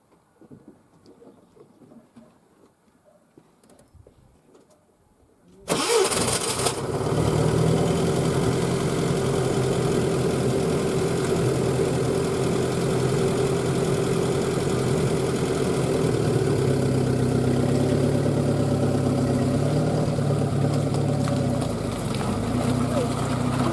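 UAZ off-road vehicle starting up on a muddy village track, then pulling away in first low gear: after quiet, a loud engine roar kicks in and holds steady and close for the rest, with some voices.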